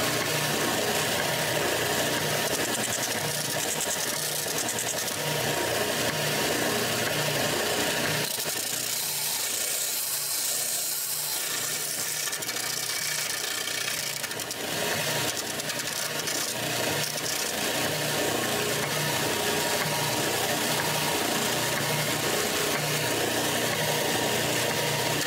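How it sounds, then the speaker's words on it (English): An oscillating spindle sander smooths a wooden part for an American-made Fender Telecaster, running steadily for the whole stretch with a loud, droning mechanical whir that thins out briefly midway. "clean it up a little on the oscillating spindle sander."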